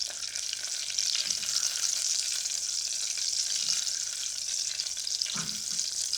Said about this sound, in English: So I'm just going to give that a stir.